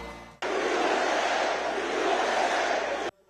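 A crowd at a Trump rally breaks into loud, sustained cheering that starts abruptly, holds for almost three seconds and then cuts off.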